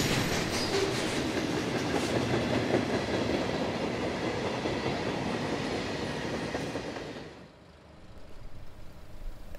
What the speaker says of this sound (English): As soon as Q370 cleared,